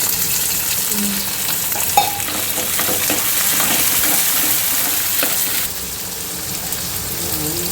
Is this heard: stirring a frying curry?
yes